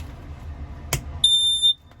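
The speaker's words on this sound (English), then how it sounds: "up in the corner here, you've got your smoke detector." A smoke detector mounted up in a corner gives a single loud, piercing electronic beep lasting about half a second, preceded by a sharp click, in an otherwise quiet small room.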